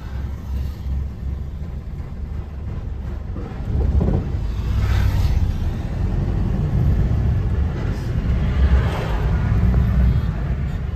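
Truck being driven along an open Indian highway, a steady low engine rumble with road noise that swells louder partway through and holds, no talking.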